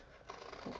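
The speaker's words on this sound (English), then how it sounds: "They're the Fiskars, what do you call them?" A pair of Fiskars spring-loaded scissors cuts through material during a mixed media canvas craft session, one brief, close snip heard alone.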